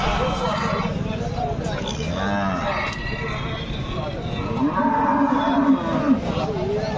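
Water buffalo moo in long, low calls amid the steady hubbub of a crowded buffalo market in Pithapuram, with people talking nearby.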